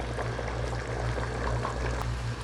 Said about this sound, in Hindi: मैं एक और चिकन स्टॉक डाल रही हूँ